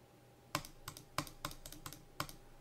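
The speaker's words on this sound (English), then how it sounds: "or even if I click my mouse" Sharp, close computer mouse clicks picked up by a sensitive microphone at a desk, about eight quick taps spaced irregularly over a faint steady background hum from the computer.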